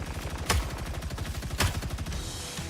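Gunfire in a video game: two sharp shots about a second apart over a low rumbling background, no speech.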